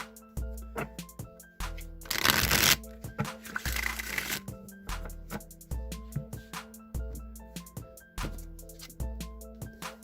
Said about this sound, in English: I am going to shuffle the Rider-Waite deck